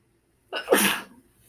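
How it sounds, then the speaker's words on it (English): A single sharp sneeze, close and sudden, with a quick intake of breath before the burst, then silence. "I think I'm going to sneeze."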